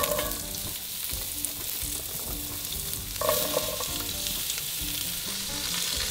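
Vegetables with large garlic pieces sizzling in a pan over the fond left from searing beef shank, a loud, steady, close frying hiss with a brief louder burst midway and no talking.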